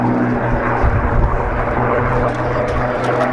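A Spitfire flies past at an air display, its piston engine giving a steady, loud, broad drone with low harmonic hum that holds constant throughout.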